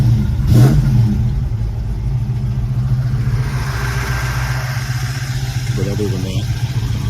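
A 1975 Chevy LUV pickup swapped with a small-block V8 idles steadily and loudly, with a rough, uneven note from an idle issue and slight misfire, while someone talks over it.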